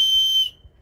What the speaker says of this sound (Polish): mamy na przykład gwizdek